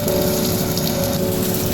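Potatoes fry in a pot with a steady, dense sizzle and crackle that stays close and loud, with no voices over it.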